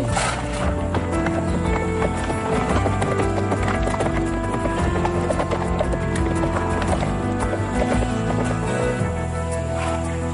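Horses gallop steadily, their hooves clip-clopping in a dense, continuous rhythm with music playing loudly over them and no pause through the run.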